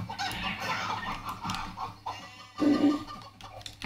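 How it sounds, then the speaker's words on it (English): Chickens clucking in the video game Moving Out, a busy layered mix of short clucks with a louder burst near the end, no talking. "Okay, I got this chicken."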